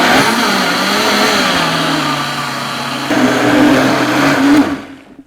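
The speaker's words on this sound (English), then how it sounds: "I'm going to turn my blender onto low and then gradually increase the speed until the soup is smooth and creamy." A blender purees hot cauliflower, zucchini and potato soup, running as a loud, steady whir whose pitch shifts as the speed rises partway through, then cuts off abruptly near the end.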